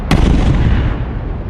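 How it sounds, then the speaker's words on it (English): Main cannons on the starship Leviathan firing in space at two dropships, a loud booming blast with a sharp onset followed by a sustained rumbling roar, alone with no voices. "The Leviathan fires its main cannons gingerly at the two dropships."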